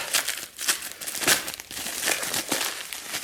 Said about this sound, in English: don't know what this is, but let's unwrap.